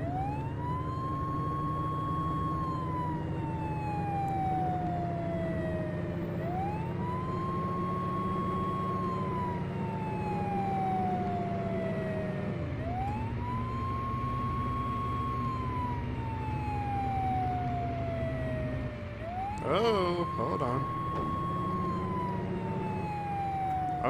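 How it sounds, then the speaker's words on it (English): A fire truck siren wailing in the video game Flashing Lights, a steady rising and falling tone cycling over several seconds, loud and continuous over a droning engine. "I wish we could alternate sirens or hit the horns."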